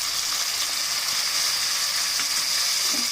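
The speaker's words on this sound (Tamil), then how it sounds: "ஆட் பண்ணிவிட்டு நல்லா ஃப்ரை பண்ணிவிடுங்க." Chopped onion and tomato frying in a pan for homemade chicken salna, a loud steady close sizzle with faint crackles throughout and no talking.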